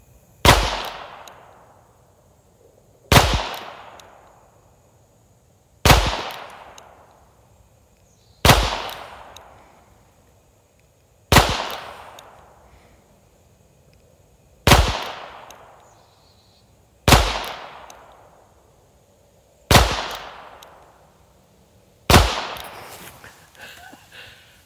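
Nine sharp single shots ring out from a Colt King Cobra Target .22 revolver fired at a target, evenly spaced about every two to three seconds, each a close, loud crack with a short decaying tail.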